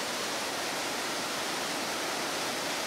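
Iguazu Falls, a chain of about 270 waterfalls, roars as a dense, constant broadband wash of falling water with no voices.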